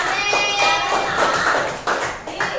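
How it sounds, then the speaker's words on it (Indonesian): Several people clap together in a short burst of rhythmic hand claps, close by, with a bright ringing tone sounding over the claps. "Pintar, tepuk tangan buat Salmanya"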